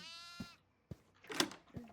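A video game goat gives a short bleat with a wavering, buzzy tone, followed by a few brief knocks and a breathy burst, fairly faint overall.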